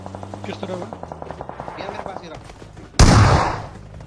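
Video game battle gunfire: a rapid rhythmic string of automatic shots, then a sudden loud, sustained blast of fire near the end.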